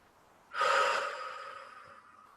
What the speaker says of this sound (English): Taking a nice deep breath on the exhale, let everything go.